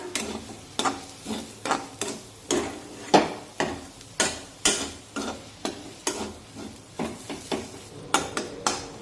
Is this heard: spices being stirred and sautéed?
yes